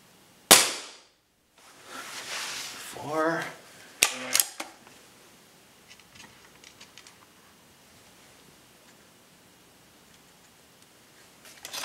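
A spring-piston .177 air rifle fires with a sharp, loud crack at the start, followed by metallic clicks and clunks of handling and a faint rustle as the action is worked, close to the microphone.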